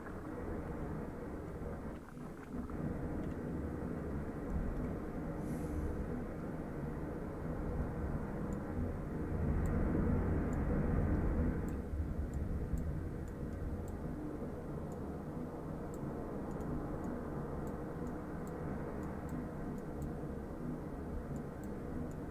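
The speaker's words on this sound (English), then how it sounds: "That plane might have called for a local patrol vessel." A fixed-wing aircraft passes nearby in the UBoat submarine video game: a steady low droning hum that swells louder for a few seconds mid-clip, then settles back to a constant background rumble, with no one speaking.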